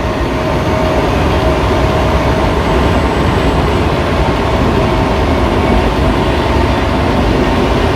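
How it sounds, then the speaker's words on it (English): A train passes close to a truck in New Mexico, a loud continuous rumble and rattle of rail cars that stays steady throughout with no horn and no talking. "I do have the window down for any time the train does blow the horn."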